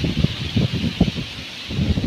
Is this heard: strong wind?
yes